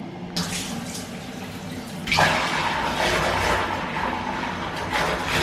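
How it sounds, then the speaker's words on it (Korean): Water pours from a shower head in a steady hiss that swells noticeably louder about two seconds in and keeps running without talk. "레버를 당기면 안 되고 저거 샤워기에서 물이 나오는데요."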